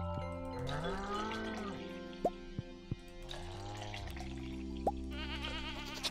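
Goats bleat while being milked in the farming video game Stardew Valley: a few wavering bleats rise over steady background game music, scattered with short dripping plinks.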